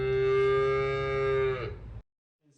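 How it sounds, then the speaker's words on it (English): A single long, clear cow moo plays through a 360 S9 robot vacuum's small speaker, steady and tonal before cutting off, followed by silence. "Make it sound like a cow."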